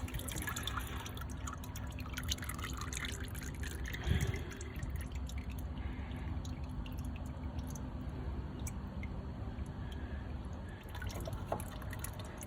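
Engine oil drains from the drain plug opening of a 2008–2012 Ford Escape during an oil change, a faint, steady trickle and drip running continuously with a brief soft knock partway through.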